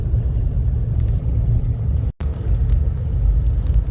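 A car drives a small road through Devils Hammock in Florida, heard from inside as a steady low engine and road rumble, with one brief dropout partway through.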